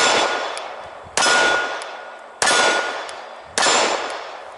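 Four loud, sharp gunshots fire about a second apart, each followed by a long ringing echo that fades before the next.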